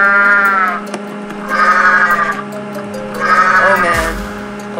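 Goat bleating in the video game Goat Simulator: loud, close, wavering bleats come in a few drawn-out calls separated by short pauses, ending with a brief thud.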